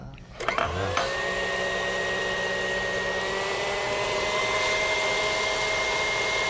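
An electric stand mixer whirs up to speed and then holds a loud, steady high-pitched drone as it beats egg yolks and sugar together, with no talking over it.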